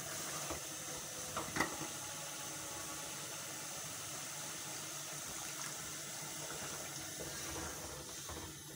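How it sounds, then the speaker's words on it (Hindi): Water being poured into a cooking pot of braised masala meat with softened tomatoes, a soft steady running trickle with a few clinks and knocks of the pot, fairly faint and without talk. "अब हम इसमें थोड़ा पानी ऐड करेंगे"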